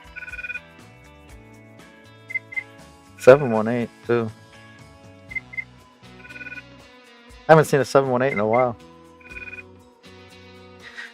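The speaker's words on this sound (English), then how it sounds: "You're gonna hear the other phone beeping." A phone gives off short, repeated electronic beeps at intervals while a person talks nearby, the tones coming in small pairs and bursts.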